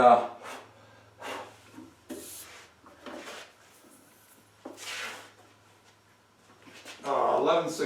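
Wood being taken off the top of a board to thin it while building a Murphy bed: a series of separate rasping, scraping strokes, close and moderately loud, with pauses between them.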